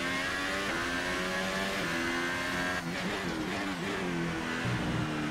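Formula 1 race car engine in the F1 2018 video game, a steady loud high-pitched whine pulling out of the pits at Australia, with small shifts in pitch as it changes gear, no talk.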